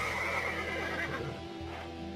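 A horse whinnying during a taming session, a loud, close, drawn-out neigh that fades off, with faint hoof sounds beneath.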